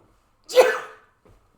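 A single sharp sneeze, close and fairly loud, from a person on a call with the camera off, trailing off quickly with a faint breath afterward.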